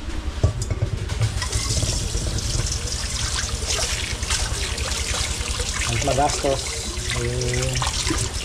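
Tap water runs in a steady trickle into a sink or basin, continuous throughout, with a person talking over it.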